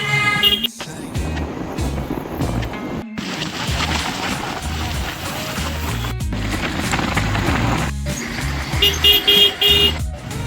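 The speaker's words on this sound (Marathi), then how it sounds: "हे आले आपली गाडी. आपण या गाडीने आता जाणार आहे भांडुपला." A car pulls up in a busy rainy-season street setting in Bhandup, with a steady engine drone, passing road traffic and a few short horn toots near the end, loud and continuous throughout.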